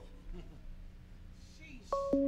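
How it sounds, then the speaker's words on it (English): A telephone call comes in during a live talk show, marked by short electronic phone tones and beeps near the end that rise above low background chatter. "We got a phone call."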